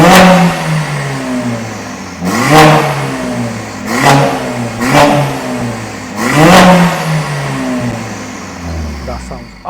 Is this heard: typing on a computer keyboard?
no